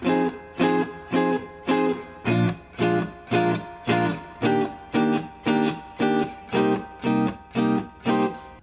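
Jazz guitar chord comping: chords strummed in an even, steady rhythm, four strokes on each chord before changing, played alone with a slightly bright, driven tone.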